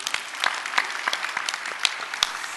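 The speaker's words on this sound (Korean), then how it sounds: "박수 한번 하세요." A church congregation claps together in response to the pastor during an evening revival service, a short burst of steady, moderately distant applause with no talking.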